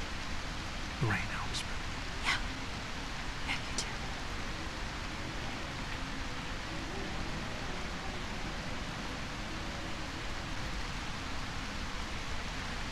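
Steady rain falls in the video game A Quiet Place: The Road Ahead, a continuous hiss with a few brief louder drops or ticks early on.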